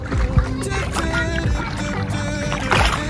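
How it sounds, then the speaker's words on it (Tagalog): A boat moves on water at a beach, with splashing and a steady engine or paddle wash, under continuous background noise and occasional voices. "Oh, ayun po, bangka naman yun"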